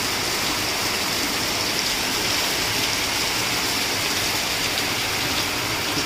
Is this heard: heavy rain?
yes